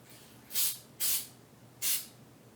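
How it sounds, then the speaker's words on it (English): A can of spray paint gives three bright hissing bursts, each lasting about a quarter second, close and distinct against a quiet background. "now I'm going to give the old spray paint a little shake."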